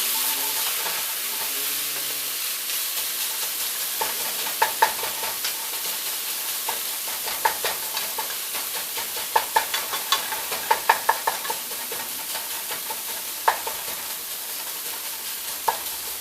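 Ground beef sizzles steadily in a hot pan while browning, broken by scattered scrapes and knocks of a spoon stirring the meat, with no talking.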